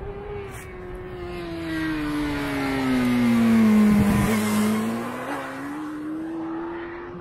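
Motorcycle slowing hard into a corner during a braking and radius demonstration, its loud engine note sliding downward and then rising again as it passes close by, with no talk over it.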